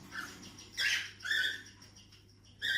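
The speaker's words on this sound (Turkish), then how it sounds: "Bu arada bir yavru besleme sesi duyuyorsunuz." Cockatiel chicks being fed: several short, high, raspy begging squeaks in bursts with pauses between, fairly close and quiet over a soft background hum.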